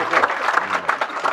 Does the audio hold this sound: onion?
no